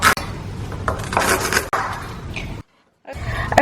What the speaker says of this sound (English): we're just going to roughly chop this into big bits